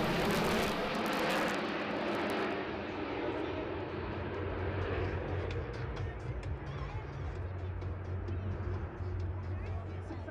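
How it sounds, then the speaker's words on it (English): Italy's Frecce Tricolori aerobatic team flying ten MB339 jet trainers at the Turkish Air Force Centenary Airshow in Izmir, 2011, a loud continuous jet roar sweeping past with a rushing high hiss at the start and faint crowd chatter beneath. "the Italian national aerobatic team Frecce Tricolori with their 10 MB339 jet trainers"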